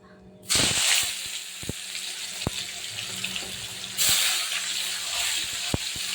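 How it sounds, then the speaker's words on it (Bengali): Chopped tomatoes drop into hot oil tempered with bay leaf and black cumin, setting off a sudden loud sizzle that keeps hissing, with a second surge of spitting and occasional light stirring clicks. "আমি দিয়ে দেবো টমেটো কুচি।"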